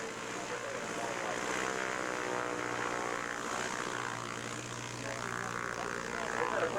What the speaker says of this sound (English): Isn't that a pretty little airplane?